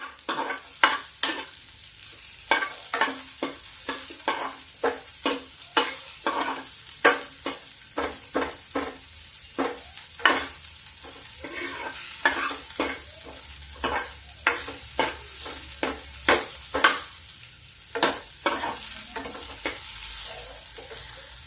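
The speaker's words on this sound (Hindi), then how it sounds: "और इसको मैं धीरे धीरे प्याज को हल्का गुलाबी भूनूंगी।" Onions frying slowly in a pan toward light pink, a continuous close sizzle punctuated by frequent rhythmic spatula scrapes and taps, no speech.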